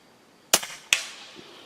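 An EDgun Leshiy air rifle fires two sharp, close cracks about a third of a second apart, each followed by a brief ring-down in a quiet setting, with a faint knock afterward.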